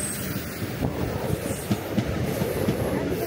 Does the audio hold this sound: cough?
no